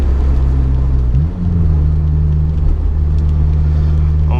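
Honda S2000 engine held at very high revs, around 9000 RPM, a loud steady high-pitched wail with a brief dip and recovery in pitch, heard from close by throughout.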